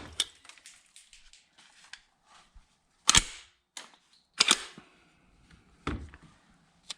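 A Ramset powder-actuated nail gun fires into a concrete block, with several sharp, loud cracks spaced a second or so apart, close up and with no talking over them.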